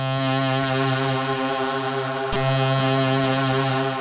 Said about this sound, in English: That's the sound of the sequencer.